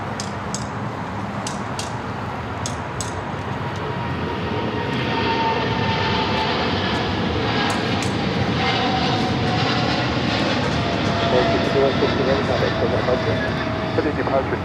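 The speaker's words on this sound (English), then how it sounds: "China Airlines cargo, the 777 freighter heading to Taipei, rolling down" China Airlines Boeing 777 freighter rolling down the runway on takeoff for Taipei, a loud sustained jet engine roar that builds steadily and holds, with faint clicks near the start and a commentator's voice at times.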